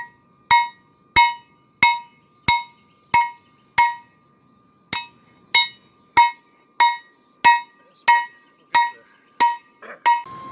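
Hammer blows on hot steel being forged into a survival knife, about sixteen sharp ringing metallic strikes in a steady rhythm, each ringing briefly, loud and close with no talk.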